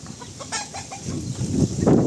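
Breeding hens in a coop give scattered soft clucks and brief calls close by, with a low rustling underneath that grows slightly louder.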